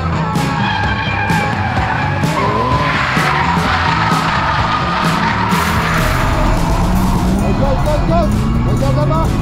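A Nissan 370Z drifts on a circuit, its tires squealing loudly and continuously over a revving engine, with people shouting nearby.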